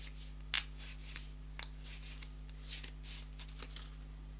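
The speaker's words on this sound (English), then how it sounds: "And then we'll shuffle up the small fish" Board game cards are shuffled and handled close by on a table, with soft rubbing and riffling, one sharper snap near the start, and light scattered taps over a low steady hum, no talk.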